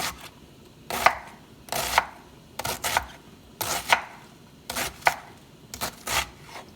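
Knife chopping cabbage into thin shreds, sharp close board strikes coming in quick bursts of two or three with short pauses between.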